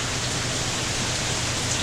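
Steady, dense rain falls on a wet, gloomy day during hurricane weather, a constant close wash of drops with no pauses and no voices.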